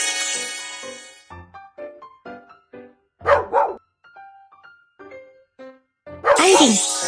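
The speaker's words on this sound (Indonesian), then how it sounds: "Anjing." A dog barks several times in short, separated yips and woofs, with some noisy bursts at the start and end.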